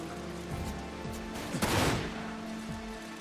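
Sniper rifle fire in a video game: several sharp reports, one after another, with a loud burst near the middle of the clip, heard over a steady game soundscape and no voices.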